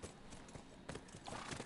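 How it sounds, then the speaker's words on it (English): Horse hooves clip-clop at a steady walking pace in The Last of Us Part II (Grounded mode), a soft rhythmic clatter of several close steps set against the game's ambient background. "Can I get off the horse?"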